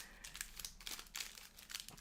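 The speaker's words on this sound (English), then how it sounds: "I'll just shuffle these packs" Foil Pokemon card booster packs shuffled by hand, giving a steady run of close, soft crinkling and rustling bursts with no voice.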